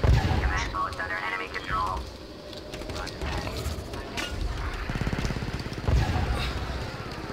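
Cannon turret blasts in the Star Wars Battlefront 2 video game, heavy booming shots with rumbling explosions and dense battle noise throughout, under people talking.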